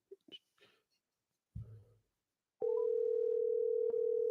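After a dropped call, a few faint clicks and handset handling noises precede a loud, steady telephone dial tone that begins abruptly and holds continuously, briefly interrupted once by a click.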